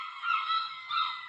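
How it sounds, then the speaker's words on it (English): Geese honk in a steady nasal chorus that swells twice, fairly close and alone with no talk. "Them birds are a fucking nuisance."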